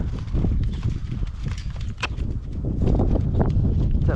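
Horse walking in a windy storm, irregular hoof clip-clops close by with wind rumble underneath, fairly loud and continuous, with no voices.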